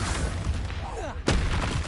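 Spell blast in Hogwarts Legacy on PS5: a short, loud explosive burst about two-thirds of the way in, over a busy, rumbling combat backdrop with a whooshing swish just before it.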